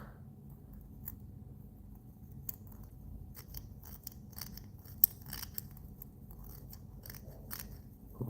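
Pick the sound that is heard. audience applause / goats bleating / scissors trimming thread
scissors trimming thread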